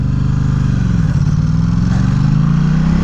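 Motorcycle engine running steady and loud while riding, a dense low drone with a pitch that dips and rises as the rider shifts, close and continuous with no talk over it.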